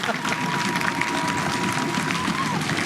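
Pupils from Collège Saint-Paul stomp their feet in a school audience at a Tour de Corse rally event, a dense, steady rumble of many feet that stays loud throughout with crowd noise over it.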